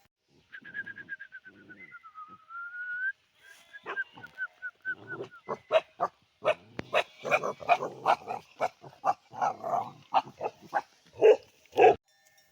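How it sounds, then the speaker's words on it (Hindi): Several Tibetan Mastiff (Bhotia) dogs eat at a Himalayan nomad camp, giving a run of sharp, irregular crunching and chomping bursts that build over about eight seconds, after a few thin bird-like whistles at the start. "ये देख रहे हैं आप जो सारे कुत्ते हैं वो अपने अपने भोजन कर रहे हैं"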